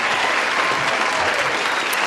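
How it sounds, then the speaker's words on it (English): Applause for a special guest wrapping up a podcast episode, a dense, steady wash of clapping from a small group that stays loud and even throughout. "Round of applause for"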